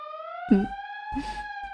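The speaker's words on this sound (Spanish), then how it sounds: "La sirena de la ambulancia empezaba a oírse cada vez más cerca" An ambulance siren holds a steady, harmonic wail that creeps slightly upward in pitch as it draws nearer, fairly faint and continuous, with a couple of brief low thumps partway through.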